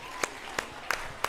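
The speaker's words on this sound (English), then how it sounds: "Please clap for her." At a roundtable and robotics competition event in Ghana, a quiz winner gets sparse applause: four sharp, separate claps spaced evenly over a faint background murmur.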